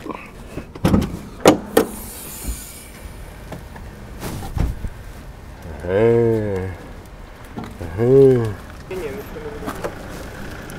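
Electric side mirror on a seven-year-old Mercedes W212, its motor whirring in two short, close, rising-and-falling bursts, with clicks and handling noises beforehand and a brief spoken word.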